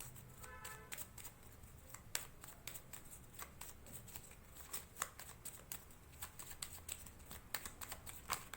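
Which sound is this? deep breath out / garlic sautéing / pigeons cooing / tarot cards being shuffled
tarot cards being shuffled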